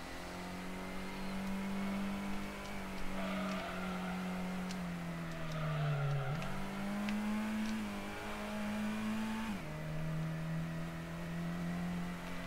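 Nissan Silvia racing in the Gran Turismo video game, its engine droning steadily with small pitch dips at gear changes, constant and close throughout with no talk.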